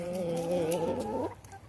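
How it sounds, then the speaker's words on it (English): A rooster and chickens cluck in a farmyard, a steady close-up warbling cluck that rises then breaks off into quieter clucks at the end. "Our rooster is trying to do the mating dance with everybody."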